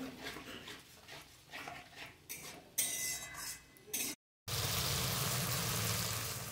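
Spiced masala for a Bengali fish curry (gurjaoli macher jhal) frying and being stirred in a pan, with scraping and clinking of a utensil against the pot, then a steady, close, loud sizzle after a short break.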